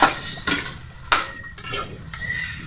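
Utensil scraping and clinking in a pot of pork being stirred, several distinct metallic knocks and scrapes at an uneven rhythm, close and moderately loud.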